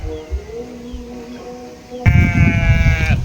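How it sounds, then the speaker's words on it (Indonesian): Goats in a herd, tended by a herder among rice paddies in a village, let out a loud nearby bleat near the end after quieter bleats and open outdoor ambience. "ada bapak-bapak yang lagi mengembala kambing ya"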